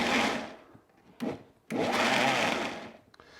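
A blender chopping parsley for hummus runs in two loud bursts with a short pause and brief blips between, whirring without any talk.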